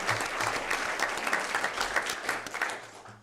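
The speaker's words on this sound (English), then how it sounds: "And so let's give Reese a round of applause." A school board meeting audience applauds a student track athlete, a short burst of clapping from a modest-sized room, fairly close and even, with some low hum underneath.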